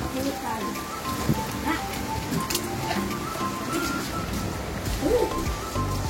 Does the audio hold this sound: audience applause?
no